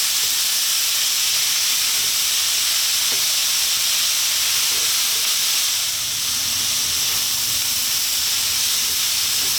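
Chicken spring roll filling with oyster sauce sizzles steadily in a pan, a loud, continuous broadband hiss holding evenly throughout with only slight dips.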